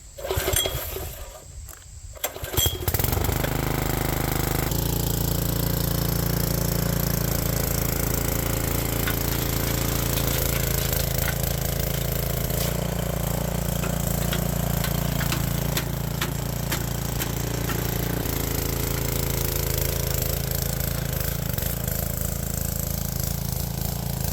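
A Troy-Bilt tiller's engine runs and churns soil. After a brief quiet start, it settles into a loud, continuous mechanical drone with a steady rumble for the rest of the clip, with no talking.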